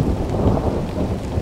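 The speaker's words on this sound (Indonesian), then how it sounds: "Tak berselang lama, hujan turun mengguyur." Heavy rain pours steadily onto a simple shelter in a mountain forest, a dense close hiss with low rumbling thunder beneath, and no voices.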